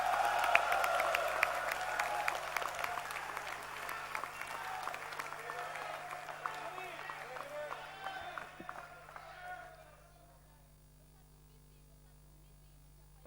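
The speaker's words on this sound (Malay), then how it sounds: "Berikan tepukan." Crowd applause at an UMNO youth assembly in Malaysia greeting the Prime Minister's arrival, a steady wash of clapping mixed with crowd noise and voices, fading out into a quiet room after about ten seconds.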